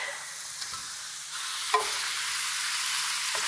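Cured meat and garlic rendering in an iron skillet, a soft continuous sizzle that brightens after a short scrape of stirring midway, close and moderate in level with no talking.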